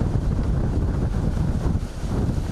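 Strong jugo wind with rain in Rijeka on the Croatian coast, heard as a loud, rumbling buffet of gusts on the microphone with churning low roar throughout, no voices.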